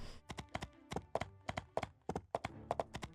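Galloping horse hooves in My Time at Portia: a steady run of sharp clip-clop beats in quick rhythm, close and clear, with no talk over them.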